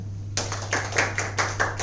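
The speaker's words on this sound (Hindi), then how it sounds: "एक बार और तालियां हो जाएं," A short burst of clapping for a student selected for MBBS, a few distinct, fairly close hand claps in an uneven rhythm over a low steady hum.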